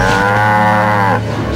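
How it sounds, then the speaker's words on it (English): Zombie cows in the video game TimeSplitters: Future Perfect let out a loud, close, drawn-out moo with a wavering, droning pitch that holds steady and then tails off. "So yeah, we got zombie cows."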